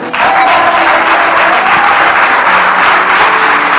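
A church congregation giving a loud, sustained round of applause during a sermon, many hands clapping close and full, with a touch of crowd cheering mixed in.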